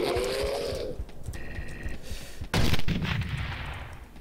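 An L bomb going off in the video game Teleglitch, a sudden loud blast with a rumbling tail after a stretch of game sounds and faint clicks, with no talking.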